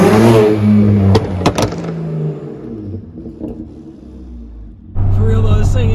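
BMW 335i with a loud aftermarket exhaust revs hard and close, a deep roaring drone that fades mid-clip and surges back loud at the end, with some talking mixed in.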